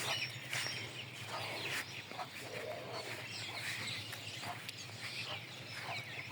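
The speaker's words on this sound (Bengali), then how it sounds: "মেলা বড় বড় মোরগ আর মুরগি" Large hens and roosters cluck faintly and intermittently in a poultry house, under steady low background noise.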